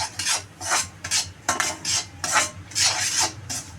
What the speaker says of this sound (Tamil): இதிலே ஒரு டம்ளர் ரவையை போட்டு நெய்யிலே வறுத்துக்கலாம்